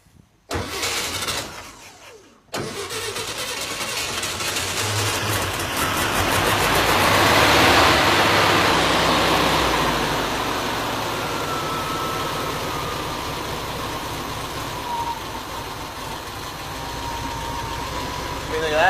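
A Volkswagen Beetle (Fusca) engine starts and settles into a steady, loud idle. It holds a rough, continuous rumble close by that swells briefly, with faint voices in the background.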